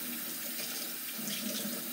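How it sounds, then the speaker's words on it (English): Warm water runs steadily from a sink tap, a close, continuous splashing flow used for washing a cat in the sink. "Run it under water, under some warm water."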